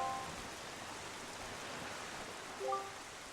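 Steady rain falls on a cursed island in Zelda: The Wind Waker as an even, soft hiss, with a few faint tonal blips near the beginning and end.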